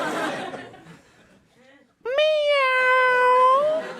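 A man imitates his cat's meow, a single drawn-out, rising and falling vocal meow that follows a stretch of his own speech.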